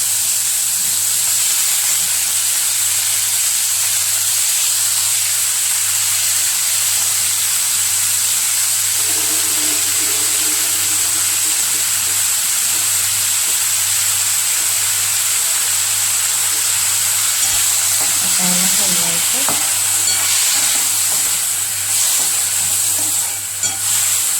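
Chopped tomatoes and curry leaves frying in a pan with cumin, giving a loud, steady hiss and sizzle over a low constant hum, with a brief stirring scrape late on.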